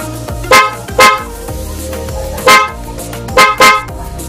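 Dual horn fitted to a Honda Beat version 3 premium scooter honks in five short loud blasts, some doubled close together, over a low steady hum.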